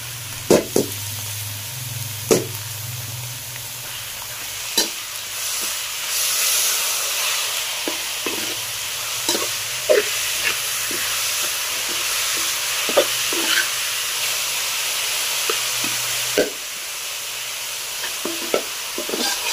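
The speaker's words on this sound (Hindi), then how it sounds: "अब हम इसमें आलू डाल देंगे।" Crushed potatoes fry in a pan under a steady sizzling hiss, with sharp scraping clicks of stirring coming at irregular intervals, close and fairly loud.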